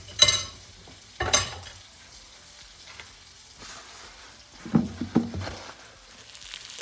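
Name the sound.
chicken frying and sizzling in a pan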